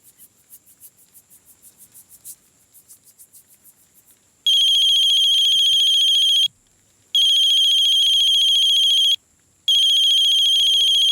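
A rapid electronic trill pulses for a few seconds, then a loud, high-pitched phone ringtone sounds in three long rings separated by brief pauses.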